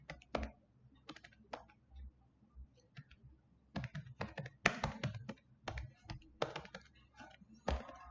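Someone types code on a computer keyboard in quick irregular bursts of close, crisp key clicks separated by short pauses, with faint room hum in the gaps.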